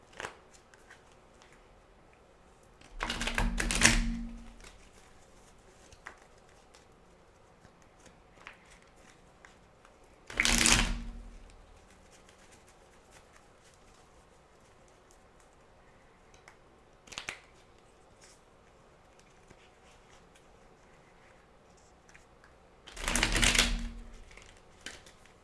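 Tarot cards shuffled for a reading, three distinct riffling bursts spaced apart, each a crisp close flutter of cards lasting about a second, separated by near silence with no talk.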